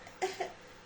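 Two quick, soft coughs from a woman recovering from a cold, close but quiet, in an otherwise still room.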